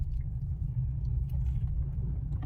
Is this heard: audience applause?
no